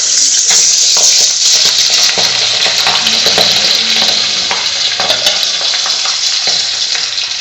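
Seven pabda fish cook in a pan with a loud, continuous sizzling and bubbling hiss, dotted with small pops and crackles, close by and with no one talking.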